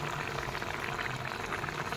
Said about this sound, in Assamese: দেখিছেনে কি ধুনীয়াকৈ উতলিছে